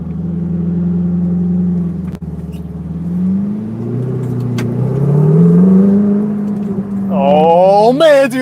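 A Ferrari 488 GTB engine while driving, a loud steady mid-pitched drone that rises and falls with speed, a voice speaking over it near the end.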